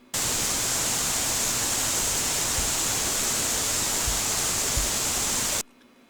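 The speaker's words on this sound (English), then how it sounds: "Listen to the waterfall." A waterfall in a Japanese garden in a Fresno, California park roars in a steady, broad rush of falling water, loud and unchanging, then cuts off abruptly near the end.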